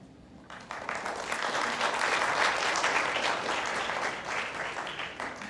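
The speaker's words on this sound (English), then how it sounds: "One more applause, please." Applause at an academic conference keynote, a dense, sustained round of clapping from a large audience that starts abruptly and holds steady, full and fairly loud, with no talking over it.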